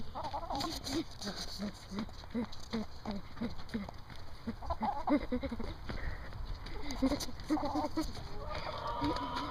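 Chickens cluck repeatedly at close range in short rhythmic bursts, with faint voices and outdoor background noise mixed in.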